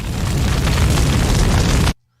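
A fireworks sound effect plays as one loud, dense roaring burst that holds for about two seconds and then cuts off abruptly into silence.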